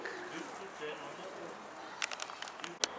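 Soft pigeon cooing in the open at a rest stop, low and steady, with a few sharper bird calls near the end.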